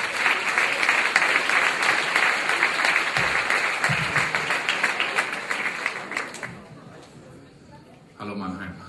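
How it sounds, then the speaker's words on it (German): A poetry slam crowd in Mannheim claps steadily for a poet, loud dense applause that gradually thins, then a voice begins speaking near the end. "euer Applaus bitte."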